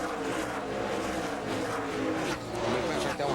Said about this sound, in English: Ken's with the 17 car going by Paul Wolf, and here comes Nemechek